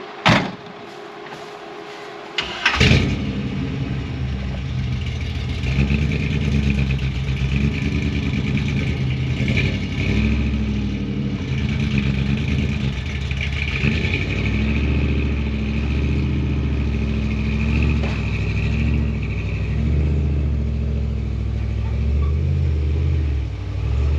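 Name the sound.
car towing a 1955 Chevy Nomad slowly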